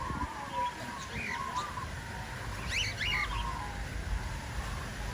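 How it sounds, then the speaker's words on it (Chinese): Parrots and small birds call at an Australian bird park, with scattered short chirps and squawks over a steady background wash of crowd and ambient noise. "这些全部是鹦鹉，是吧？"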